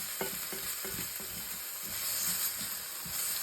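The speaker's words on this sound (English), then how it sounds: "stop it from sticking to the pan, just brown that up a little bit" Food for a homemade bean stew browns in a pan, a steady close sizzle and hiss with occasional scraping stirs near the start.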